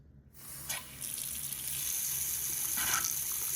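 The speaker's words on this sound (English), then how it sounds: "Let's go ahead and run the water and see what happens." Water gushes steadily from a repaired faucet at high pressure, a loud continuous hiss and splash that starts after a moment of silence and holds to the end.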